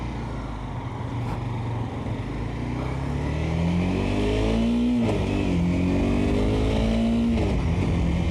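A motorcycle engine hums steadily on a wet commute, close and loud, its pitch rising and dropping through throttle and clutch work, gear shifts and engine braking.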